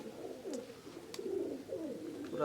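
Soft, repeated cooing of pigeons close by at a pigeon coop, low burbling calls overlapping in a steady murmur with a couple of faint clicks.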